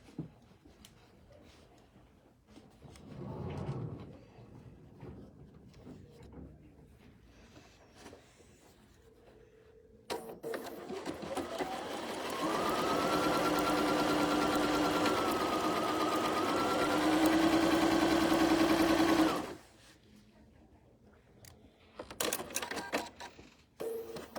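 A sewing machine runs in one steady burst of about nine seconds, stitching the seam of a quilted Christmas table runner, loud and close, with quiet handling noise before and after.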